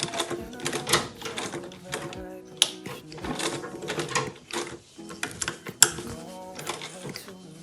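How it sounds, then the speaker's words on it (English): Close, loud sewing machine running in short bursts of rapid mechanical clatter as it back stitches an Ankara fabric tote bag, with brief pauses between runs and a voice heard occasionally. "So I'm just going to back stitch."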